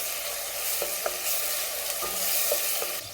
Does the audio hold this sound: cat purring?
no